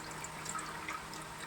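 Water pours in a faint, steady, hissing trickle while bael fruit sherbet is being made.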